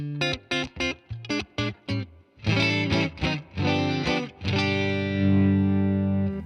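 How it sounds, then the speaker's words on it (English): Clean electric guitar through a Deluxe Reverb amp on the front single-coil pickup: a run of short picked notes, then sustained chords ringing out and fading, close and clear with no talk. "we are starting off with this cleany Deluxe Reverb with the single coil in front"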